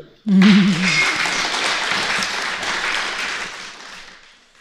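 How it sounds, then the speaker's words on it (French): Audience applause at the PodRennes 2025 podcast event starts abruptly after a brief voice and holds as a dense, steady clatter of many hands for about four seconds before tapering off. "On applaudit."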